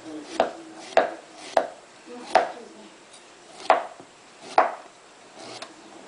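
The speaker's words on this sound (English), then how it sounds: "you want to peel the ginger" Fresh ginger being peeled with a knife on a board: about seven short, separate knocks and scrapes at a slow, uneven pace, close and fairly crisp, with quiet pauses in between.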